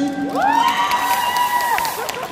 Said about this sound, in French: S'il vous plaît, applaudissez-le aussi.